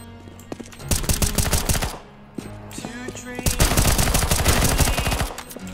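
Gunfire in the shooter game CS:GO, with rapid bursts of automatic shots in two long volleys and a few single cracks, loud and close, with a voice talking faintly underneath.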